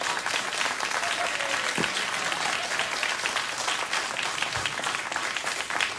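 Applause from a late-night talk show studio audience, a steady dense wash of many hands clapping at once that runs loud and sustained without a break.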